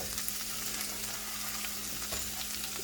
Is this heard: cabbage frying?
yes